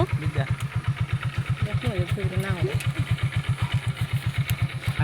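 A motorcycle engine runs with a fast, even thumping pulse, close and steady throughout, while people talk briefly over it.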